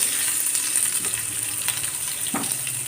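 Ingredients for kadala curry sauté in a pan with a loud, steady, continuous sizzle and occasional faint stirring taps.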